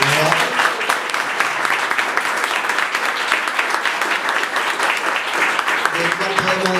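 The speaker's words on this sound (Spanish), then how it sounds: "que es el compañero Carlos Tomada, para el que pido el más fuerte aplauso que se pueda." A political gathering's audience breaks into sustained, loud applause, a dense wall of clapping lasting several seconds, with a speaker's voice rising over it near the end.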